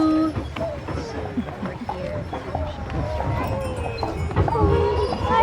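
Horses' hooves clip-clop steadily on a carriage ride through an American countryside, heard under continuous chatter from passengers.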